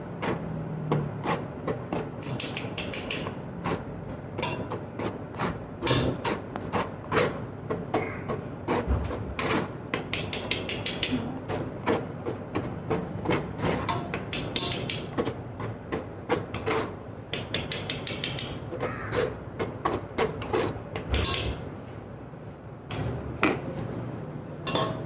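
Flour being sifted for a tea cake batter, giving a steady, dense rhythm of close, rapid tapping and rattling from the sieve that carries on throughout without any talking.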